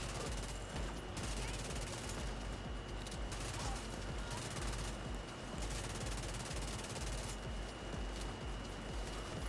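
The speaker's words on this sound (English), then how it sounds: "How's that turret still fucking shooting at me?" An enemy turret in The Division 2 fires steady bursts of automatic gunfire at the player, the shots dense and close throughout with brief gaps between volleys.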